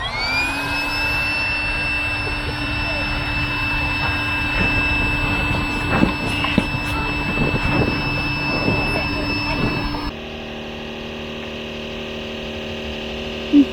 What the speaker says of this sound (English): When you're using the pump, it's normal for it to change to this sort of grinding noise.